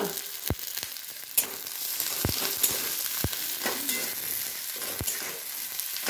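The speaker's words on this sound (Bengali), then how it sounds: "রসুন দিয়েছি, এরপর পেঁয়াজ দিচ্ছি।" Garlic and onion frying in a pan alongside spinach, giving a steady close sizzle punctuated by a handful of sharp spatula knocks and scrapes against the pan.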